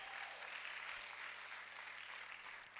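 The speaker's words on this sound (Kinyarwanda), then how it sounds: "Tuyikomera amashyi yo Mana ya Israel." Congregation at a church service applauding together, a steady broad wash of clapping that holds evenly throughout at a low, distant level.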